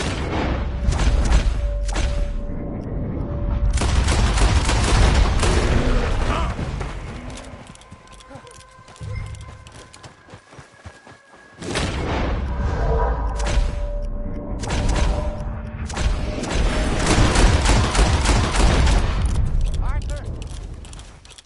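Gunfire and booms in Red Dead Redemption 2 come in dense, loud bursts, with horse clip-clop and shouting voices mixed through the fighting and a short lull partway.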